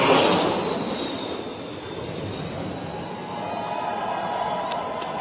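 A Boeing 777X airliner on its very first landing, a steady broad roar of engine and airframe noise heard from a distance, sustained throughout with no talk.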